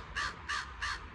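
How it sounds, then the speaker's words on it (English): A crow caws four times in steady rhythm, loud, close and harsh, with no voices over it. "Look at the crow and look at the jay."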